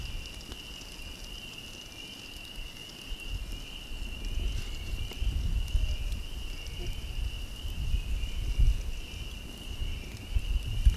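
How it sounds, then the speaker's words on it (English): Tree frogs calling outdoors at night during a windy canoe ride, a steady high-pitched trilling chorus that runs unbroken throughout, under gusting wind and water noise that grows louder toward the end. "You can probably hear those tree frogs in the background."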